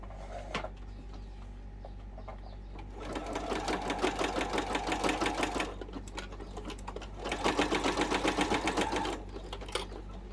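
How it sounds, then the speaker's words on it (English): A sewing machine stitches a fabric wallet with card slots, running in two bursts of rapid rhythmic needle chatter separated by a pause, close and clear over a low steady hum, with no talk. "when we start it, we just want to do a back stitch and keep the needle in the down position"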